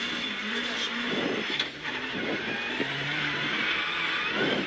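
Ford rally car engine revving as it turns back around in snow at the Jänner Rallye, a sustained droning roar heard from a distance under an excited commentator's voice.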